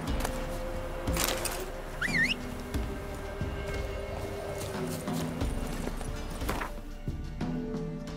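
Horse hooves in The Witcher 3 clip-clop in a steady galloping rhythm, close and clear, with a brief whinny-like call partway through and game ambience beneath until the hoofbeats fade near the end.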